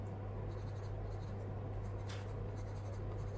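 Watercolour pencil colouring on paper, drawing tropical flowers and leaves with light pressure: soft, close, continuous scratchy scribbling with short rhythmic stroke bursts over a steady low hum.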